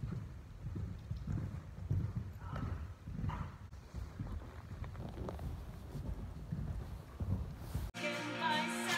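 Hooves of a restless horse that won't stand still, clip-clopping in an irregular rhythm close to the microphone, mixed with gusting wind noise and a brief break near the end.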